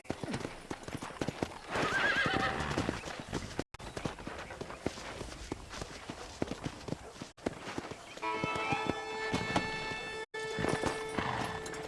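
Rapid horse hoofbeats in the video game Red Dead Redemption pound steadily along, with a horse whinnying partway through and some faint background sounds.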